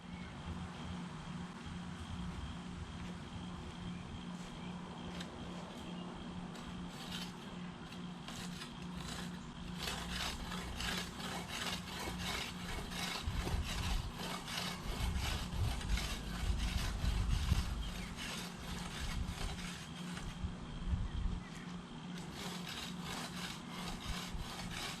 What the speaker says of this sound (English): I'm going to spend some time scratching up the dirt here,